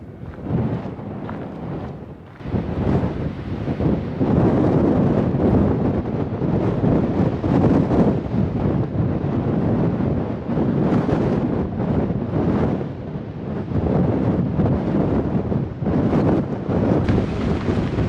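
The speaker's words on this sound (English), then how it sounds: "It's getting way too windy." Strong wind on the Pacific Crest Trail near Cottonwood Creek roars and buffets the microphone continuously, loud broadband rumbling with gusts rising and falling throughout, no voices.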